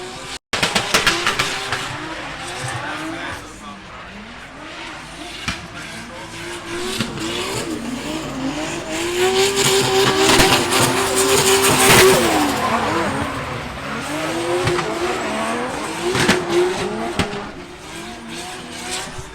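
A drift car passes at a drifting event in Ireland, its engine rising and falling loudly as it revs and slides through, with tyre noise sweeping up to a peak midway and fading afterwards, under faint crowd noise.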